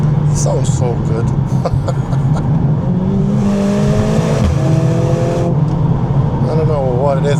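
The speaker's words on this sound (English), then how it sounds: "I don't know what it is about those snaps when you upshift. It sounds so bloody good." Mercedes-Benz CLA 45 S engine revving hard on a country B road, with sharp crackling snaps on upshifts; a steady loud engine drone rises and falls through the gears while someone talks over it.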